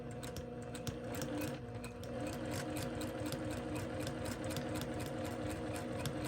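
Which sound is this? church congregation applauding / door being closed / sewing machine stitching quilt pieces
sewing machine stitching quilt pieces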